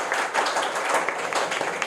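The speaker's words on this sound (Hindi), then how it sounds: "तो सबसे पहले इनके लिए एक जोरदार ताली होनी चाहिए।" Students in a coaching class clap for a high-scoring classmate. The applause is a short burst of dense, steady clapping from a small crowd in a room.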